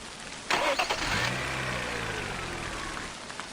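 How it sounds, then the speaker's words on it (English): A car engine in a rainy scene from the video game Midnight Puppeteer cranks and catches with a sharp start, then settles into a low, steady idle that gradually fades under a hiss of rain. "The engine started."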